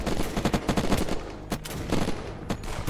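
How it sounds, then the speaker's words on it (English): Gunfire in the video game Unturned: dense, loud bursts of rapid shots layered over one another, with a brief lull before the firing resumes. "Open fire on them."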